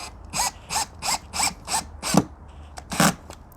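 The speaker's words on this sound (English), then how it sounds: "just put the screw in" A screw is driven into pallet wood decking for a garden patio, heard as a series of about seven short, regular ratcheting bursts from a power driver, close and fairly loud, with no voices.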